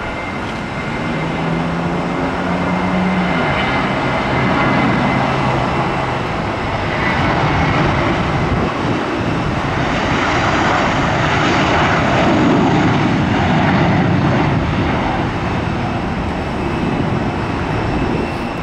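Jet airliners departing Tampa International roar steadily throughout, a loud, continuous broadband engine rumble that swells slightly in the middle and holds near, with no talking.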